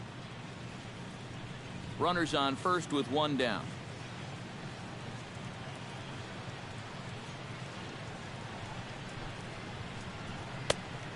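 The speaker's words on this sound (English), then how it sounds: "And this rain is intensifying now. This is as hard as it's come down all night." Heavy rain pouring down steadily over a night baseball game, a constant wash of hiss throughout while a commentator speaks briefly near the start.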